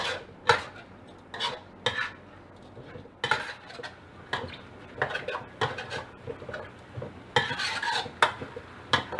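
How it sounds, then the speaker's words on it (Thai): Chili and garlic are stir-fried over high heat for Thai pork kaprao, metal spatula clanking and scraping against the pan in irregular strokes, with only a faint sizzle underneath and no talk. "ขั้นตอนนี้ให้ใช้ไฟแรงเลยนะคะผัดให้หอมเลยค่ะ"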